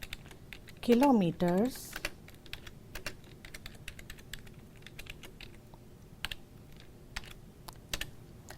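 Fingers type quickly on a computer keyboard, a near, steady stream of light key clicks that continues throughout, with a short spoken word near the start.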